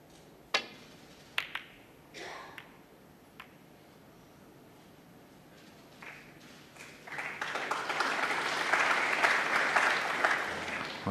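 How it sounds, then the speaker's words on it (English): Applause swells from a 2,000-strong snooker crowd at Alexandra Palace during the 2017 Masters final, starting with a few scattered claps and building into sustained, loud clapping through the latter half. "there is that Alexandra Palace crowd"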